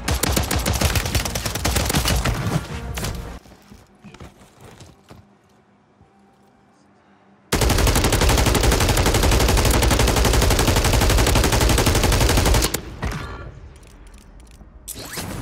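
A Glock 45 pistol fires in Call of Duty Warzone 3: rapid, loud automatic bursts for about three seconds, a quiet pause, then a sustained stream of fast shots for around five seconds before fading into softer background game noise.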